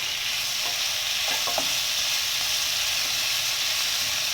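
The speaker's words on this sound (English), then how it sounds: "Saute all of them well until they are well cooked" Onions, tomatoes, curry leaves, coriander leaves and Kashmiri red chili with tamarind sizzle steadily in a pan for tomato chutney, a constant loud frying hiss with a few faint stirring clicks near the middle and no talk.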